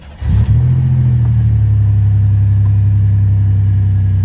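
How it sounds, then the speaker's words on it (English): A GM car engine cranks briefly and catches, then settles into a loud, steady idle rumble that continues close by without interruption. "let's start our car up."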